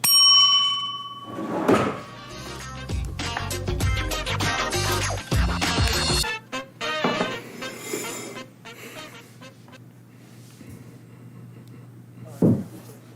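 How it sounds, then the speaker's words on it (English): A small desk bell struck on a live real estate talk show, ringing out with a bright metallic tone at the start, followed by clattering handling noises and a second sharp strike near the end. "Why did I put the bell away so early? I had to hit it first."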